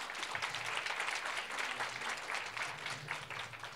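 An audience at an Oxford-style debate during a philanthropy summit in Poland applauds a speaker being introduced; quiet, continuous clapping from many hands, fairly distant, with a faint low murmur underneath.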